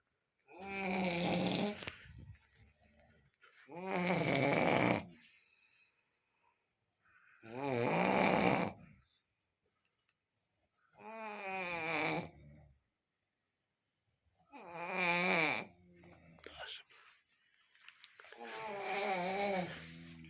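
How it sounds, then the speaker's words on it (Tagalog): A person snoring at night in a barracks in Libya, six loud, slow, rasping breaths spaced evenly with silent pauses between them, close to the recorder. "Hilik pala yung maiwagang tunog na lagi ko naririnig gabi-gabi"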